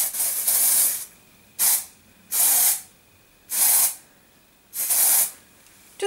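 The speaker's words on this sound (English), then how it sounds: "but I'm just going to spray the front." Repeated short bursts of aerosol spray hiss onto the front of a synthetic wig, five sharp sprays with short gaps between them, close and loud.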